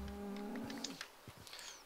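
Cattle lowing in a video game server as cows are herded toward a new pen, a few moos and farm-animal calls fairly close, with no talking.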